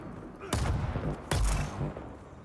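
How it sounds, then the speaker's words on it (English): Two sharp, loud gunshot bursts from a sentinel turret in Dune: Awakening, roughly three-quarters of a second apart, each with a short booming tail over faint background ambience. "The sentinel shot at somebody."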